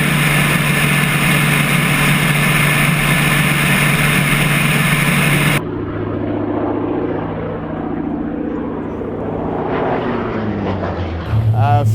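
A Hawker Sea Fury piston propeller fighter, one of a pair in a flying display, roars loud and steady overhead, its engine note shifting and swelling as it passes.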